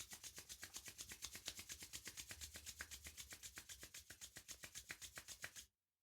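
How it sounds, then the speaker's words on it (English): Palms rubbed together briskly during a meditation: a steady, rapid rasping swish of skin on skin, close and even, repeating about seven strokes per second for several seconds before stopping abruptly. "Rub your palms together briskly"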